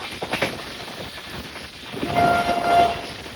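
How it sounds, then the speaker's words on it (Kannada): Fast passenger train running at high speed, a rushing rumble of the carriages with a sustained horn sounding in the distance toward the end. "ಹೆವಿ ಸ್ಪೀಡಲ್ಲಿ ಹೋಗ್ತಾ ಇದ್ದಾನೆ ನಮ್ಮ ಟ್ರೈನ್ ಗಾಡಿ"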